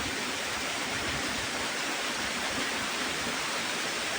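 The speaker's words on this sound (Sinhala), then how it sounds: "ඕන්න සීක්‍රට් ඇල්ල කඩා හැලෙන ආකාරය." A hidden waterfall in Sri Lanka cascades down rocks, making a steady, dense, broadband roar that holds constant throughout with no voices.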